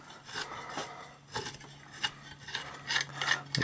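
A BMX bottom bracket cup on a one-piece crank set is unscrewed by hand, giving short dry metallic rasps and scrapes in uneven bursts, close and fairly quiet, with no talking.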